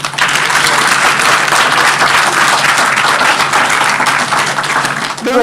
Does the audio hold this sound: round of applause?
yes